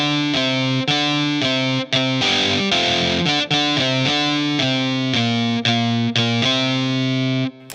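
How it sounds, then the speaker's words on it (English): A distorted British stack synth lead in Logic Pro plays the bridge of the A-Team theme, a bright, loud run of sustained notes with brief gaps between phrases. "Found myself a British stack synth lead, which will help to emphasize the notes in the bridge section of the song"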